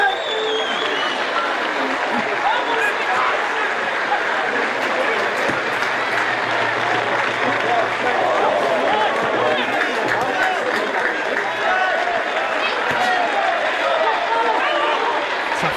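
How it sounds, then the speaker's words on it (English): A football stadium crowd applauds steadily for an injured player walking back toward the dugout, a dense, sustained clapping with scattered shouts, while a commentator talks over it. "The applause by the way is for Chester's injured player at the moment who is making his way round back towards the dugout."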